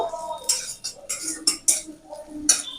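Clinking metal spoon scrapes against a pan while garlic and ginger are stirred in oil, a series of short sharp clatters in an irregular rhythm, fairly close and moderately loud.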